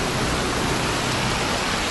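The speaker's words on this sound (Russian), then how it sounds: "Все, опять дождь пошел." Steady rain pours down outdoors on a January day in Alanya, a dense, constant hiss with no breaks and no voices.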